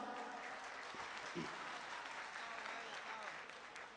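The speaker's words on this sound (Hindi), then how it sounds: "एक बार तालियां बजाकर मुझे हौसला दें" An audience at an Independence Day mushaira poetry gathering in Kolkata claps, a faint, distant wash of applause that holds steady and fades slightly at the end, with a voice briefly heard over it.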